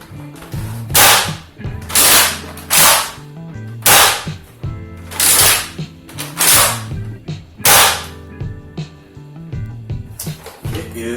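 A Nerf Rival Atlas shotgun blaster is primed repeatedly, giving a run of sharp, loud plastic clacks and snaps in an uneven rhythm with short gaps between them, close to the listener and with no voices.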